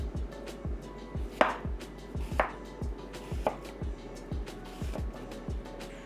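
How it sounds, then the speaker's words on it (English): A knife slices through a peeled onion on a cutting board, about a dozen crisp chopping strokes in a steady rhythm, close and clear, with no talking. "now I'm just going to slice it"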